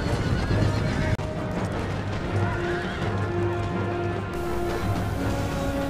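Cavalry horses whinny and neigh amid pounding hooves on a Total War battlefield in Empire: Total War, close and loud, with a sharp crash partway through and a steady battle din beneath.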